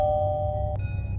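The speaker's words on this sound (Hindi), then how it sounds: "तभी डोरबेल बजती है" A doorbell chimes in a Hindi animated horror story, a clear electronic ding-dong tone that sustains, breaks off, then sounds again at the end, with no speech over it.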